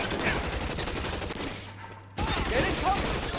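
Rapid gunfire in the LA Noire video game crackles loudly and continuously, with a brief drop and low hum before the shooting resumes at full intensity.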